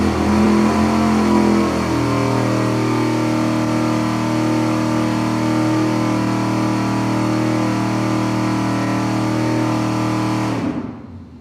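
Engine held at a steady 4,700 RPM on a dynamometer, with oil warming toward 210 degrees and aluminum heads fitted: a loud, continuous, even drone that holds constant for about ten seconds, then cuts off abruptly at the end.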